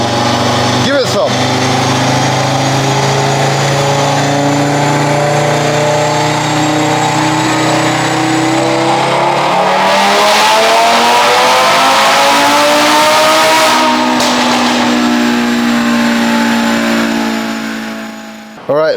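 An Audi RS3 on a dyno runs its engine hard, the pitch climbing steadily through a long loud pull before easing off, the car's roar filling the space alone.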